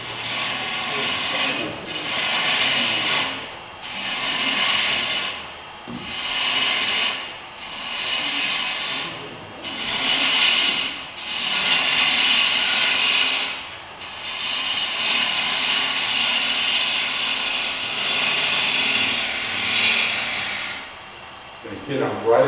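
A woodturning gouge cuts into a wooden bowl spinning on a lathe, making rhythmic bursts of bright, hissing shaving noise that rise and fade with each pass.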